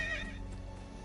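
A horse whinnies in a video game, a short, fairly quiet neigh with a little clip-clop, heard alone with no talk.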